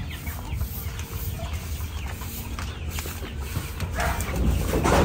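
Breeder hens and roosters cluck together in a crowded coop, a dense, steady layer of overlapping clucks and murmurs under constant background noise.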